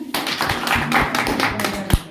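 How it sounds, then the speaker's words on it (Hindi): A crowd at a Hippo Corporation training session claps steadily and loudly, with voices mixed in under the applause. "तब तक सर के लिए एक बार जोरदार तालियां"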